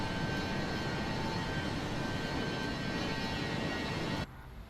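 Jet engines of a Fokker 100 airliner heard from outside the aircraft in Microsoft Flight Simulator 2024, a loud steady broadband roar with a faint whine that cuts off abruptly near the end, leaving a quiet hiss.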